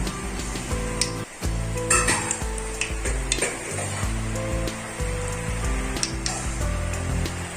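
Rice murukku fries in hot oil with a steady sizzle and occasional stirring clinks, running under music throughout.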